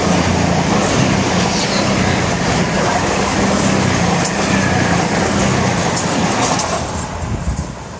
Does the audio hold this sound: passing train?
yes